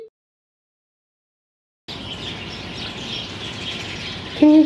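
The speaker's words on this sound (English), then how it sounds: "These trees are absolutely chock full of these little birds." Many small birds, likely chickadees, chirp and call from trees in a steady, busy chorus after a moment of silence.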